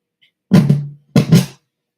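Two short sung vocal phrases through a high-pass filter in Logic Pro X, with a thin, filtered quality, separated by a brief pause, close and fairly loud.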